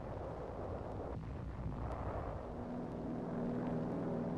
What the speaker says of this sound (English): an air bombardment is softening up nearby Corregidor